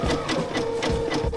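A sewing machine stitches crazy patchwork fabric at close range, its needle whirring in a steady, fast rhythmic chatter with no one talking.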